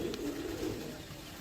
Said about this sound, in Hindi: ये बतखी कबूतरी है।